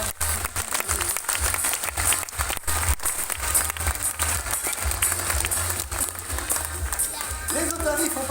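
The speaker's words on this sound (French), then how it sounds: "Et on peut les applaudir bien fort pour leur participation." Crowd at a zoo sea lion show applauding after the performance, dense steady clapping mixed with crowd noise and outdoor bustle, with a low rumble underneath and a voice briefly heard near the end.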